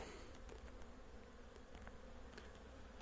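Honeybees on a cleansing flight around a hive make a continuous, soft, droning buzz, a quiet swarm hum with occasional individual bees passing closer.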